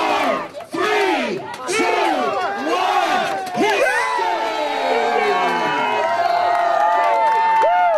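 A lively crowd at a Pink Fridge contest whoops, shouts and cheers on contestants in rapid, overlapping bursts of rising and falling voices, loud and close throughout.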